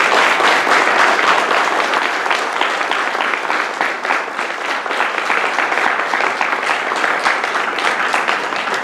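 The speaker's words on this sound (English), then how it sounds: "Could we have a round of applause for our allies?" Sustained applause from an audience at an LGBTQ community gathering in Bakersfield, steady and dense throughout with no talk over it.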